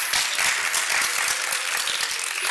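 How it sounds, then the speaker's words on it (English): Applause from the audience at a Women Working For Change conference, a bright, dense patter of many hands clapping at steady loudness through the short stretch, with no voices standing out. "Give yourself a round of applause"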